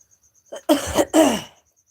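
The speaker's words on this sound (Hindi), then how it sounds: "खांसी रुकती नहीं है, बोलते हैं तो खांसी भी आ जाती है।" A few harsh coughs from a sick person close to the mic, two strong bursts after a faint catch, then quiet.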